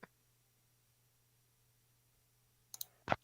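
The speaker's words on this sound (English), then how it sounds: "I'm clicking stuff pretty rapidly" Rapid clicking from a gaming session, heard as a soft tick at the start and then a quick burst of sharp clicks near the end over a low steady hum.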